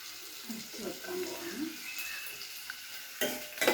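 Curry being lightly mixed in a pan, heard as soft, close scraping and stirring over a gentle sizzle, fairly quiet with a brief clatter near the end; a voice talks faintly beneath it.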